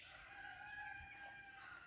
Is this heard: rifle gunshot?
no